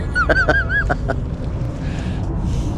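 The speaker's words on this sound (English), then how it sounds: "There's some horn honking and like crazy in the background, and birds everywhere." Several loud honking bird calls up close, a quick burst of repeated honks, followed by softer background noise.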